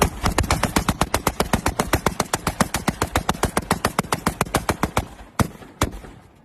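A homemade motor-driven minigun fires over a lake in a rapid, even stream of loud, close shots for about five seconds, then a few isolated single shots follow.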